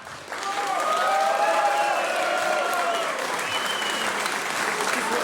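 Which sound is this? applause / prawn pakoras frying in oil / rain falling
applause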